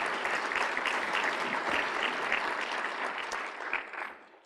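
Audience members at an athletics awards ceremony applaud in a dense, steady burst that fades toward the end.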